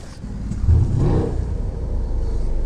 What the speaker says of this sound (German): So hört sich ein wahrer AMG an.